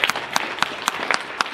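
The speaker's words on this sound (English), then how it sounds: "You onlookers may now clap." A small audience at a church play of the story of Esther gives sparse applause, a handful of distinct claps spaced out at a moderate distance with no voices.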